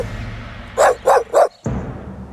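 Dog barking in a narrated children's story, three sharp close barks in quick succession followed by a brief pause and a rumble of background sound.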